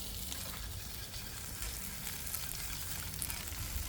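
Orange chicken sauce reduces on a Blackstone griddle with a constant, fairly quiet frying sizzle, dense and even across the whole span, without any speech.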